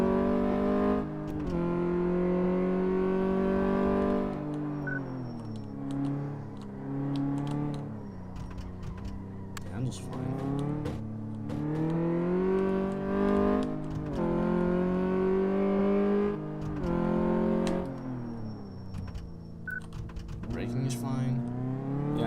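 In the Car Mechanic Simulator video game, a car revs and accelerates during a test drive, engine pitch climbing repeatedly through gear shifts, with short drops between the pulls and faint clicks heard along the way.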